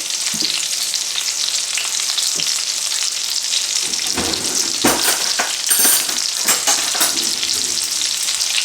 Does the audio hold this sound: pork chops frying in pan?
yes